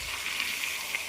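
Goat mutton sizzles in hot oil and rendered fat with fried spice paste, a steady close hiss with tiny crackles and pops running throughout, no voices.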